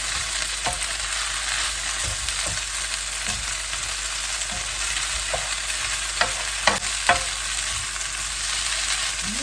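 Fresh wide rice noodles stir-fry for pad see ew in a pan, a steady broadband sizzle with sharp spatula scrapes and clacks at irregular intervals, close and alone without talk.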